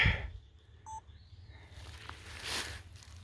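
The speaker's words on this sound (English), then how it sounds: "I got a phone call coming in from my guest." An incoming phone call sounds as a brief electronic double beep, short and moderately clear against a quiet, low background rumble.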